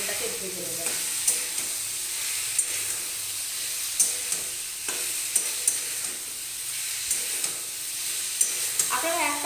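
Potato and pointed gourd fry in oil over low to medium heat, giving an even, close sizzle broken by regular light clicks of a spatula stirring the pan.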